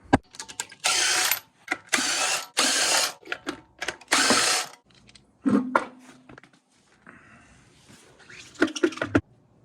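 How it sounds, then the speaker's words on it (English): A ratchet or power tool loosens the wheel bolts on a lowered Honda CRX, giving several loud close bursts of rapid clicking and whirring broken by short pauses and scattered metallic clanks. "I'm gonna pull the wheels off."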